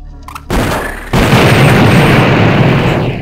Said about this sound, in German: So, da steht jetzt TNT dran. Das würde jetzt auch explodieren.